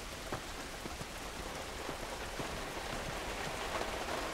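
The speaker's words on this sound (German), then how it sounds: "Und der Regen, sehr nice." Steady rain in the video game The Last of Us, a dense even hiss of falling drops with scattered sharper patters, continuous and soft throughout.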